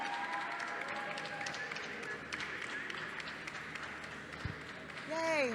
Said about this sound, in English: Clap more, guys. We need to hear the noise.